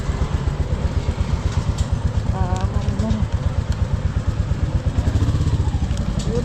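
A motorcycle engine running close by with a rapid, even thumping pulse and some rattling, steady throughout while people talk over it.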